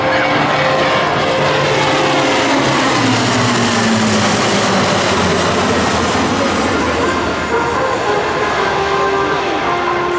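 A C-130J-30 Hercules turboprop flying a demonstration at an Air National Guard open house airshow, a loud continuous engine and propeller roar with a slowly shifting pitch, unbroken for the whole stretch.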